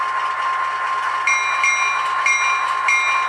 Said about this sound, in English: Yep, the old pneumatic bells.